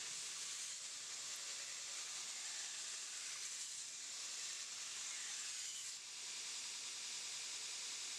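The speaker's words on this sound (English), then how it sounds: "Use the same uh, push stick technique, coarse grit belt, 36 grit," Stainless steel chef knife blade ground on a belt grinder with a coarse 36 grit belt, a steady faint hiss of abrasive on metal running throughout with no talk.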